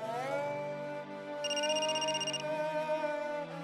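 A telephone rings faintly, a short high electronic trill heard once beneath a steady musical backdrop in an indoor scene of a Marathi TV serial.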